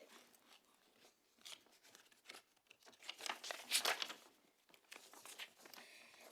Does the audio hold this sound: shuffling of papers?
yes